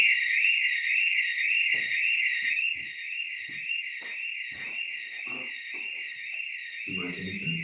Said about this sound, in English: What is it? Fire alarm?